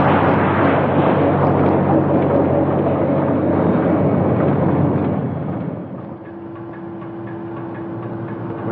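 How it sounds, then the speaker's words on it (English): A tram rolling on rails deep underground gives a dense, steady mechanical rumble close by, which eases after about five seconds into a quieter hum with a sustained tone. "Coleman, bring up the tram"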